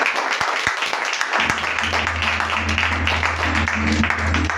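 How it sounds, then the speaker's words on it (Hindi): Church congregation clapping loudly and steadily after a sermon reading, a dense continuous wash of applause with a low hum underneath. "खुदा के कलाम के लिए जोरदार ताली"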